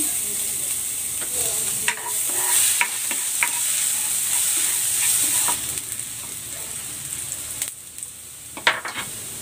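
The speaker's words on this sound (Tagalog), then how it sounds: "Maglalagay ako ng cooking oil. Gigisa ko na tong bawang." Garlic sizzles in hot cooking oil in a pan, a bright, constant frying hiss with scattered clicks and scrapes of a spatula stirring it.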